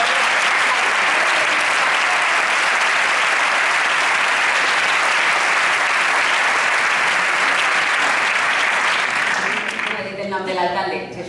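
A crowd applauds at a Compromís political event presenting local candidates, with sustained, loud, dense clapping that fades near the end as a voice begins speaking.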